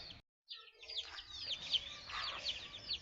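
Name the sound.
neighbour's chicken clucking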